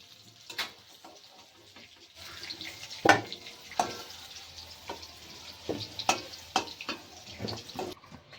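Potatoes frying in hot oil until reddish-brown, cooked for a jackfruit curry. A steady, fairly quiet sizzle runs underneath, broken by sharp clinks and scrapes of a utensil in the pan.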